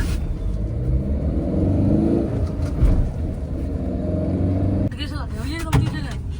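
Tata Nexon accelerating hard in sports mode on a highway, its engine rising in a steady rumble with wind and road noise, and a shift near the end; someone talks over it.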